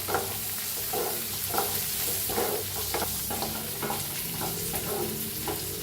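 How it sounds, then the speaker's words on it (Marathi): Tomato and peas are stirred in a hot pan with half a spoon of turmeric and coriander powder for a masala dosa filling. A steady sizzle of frying runs under rhythmic scraping strokes of the spoon. "आता याला मिक्स करून घेऊया"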